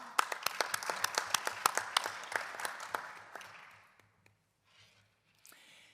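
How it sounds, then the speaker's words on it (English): A crowd at a conference on arts and employment claps in a lively burst of applause that gradually fades out over a few seconds, leaving near silence with a faint stir at the end. "So a big round of applause to Isabella."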